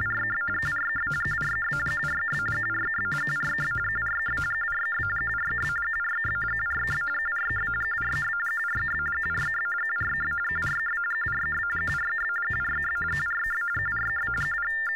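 Encoded file data plays through a payphone as a continuous steady high tone layered with rhythmic pulsing bursts that repeat evenly for the whole stretch, loud and unbroken, with no voices.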